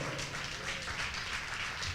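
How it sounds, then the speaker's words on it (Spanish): Applause from a church congregation during a sermon, a steady wash of many hands clapping at moderate distance, continuous throughout with no talking over it. "Alguien le da un aplauso al Señor."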